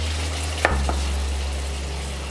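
Diced tomatoes hit a pan of frying paprika with a brief splash around the middle, after which a steady broad sizzle continues close up. Low kitchen hum runs underneath throughout.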